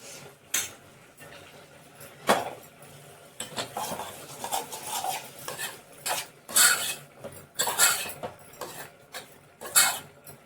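A spoon stirs lemon rice in a metal pot, giving a run of close scraping and clinking strokes that grow busier over the span, with no talk.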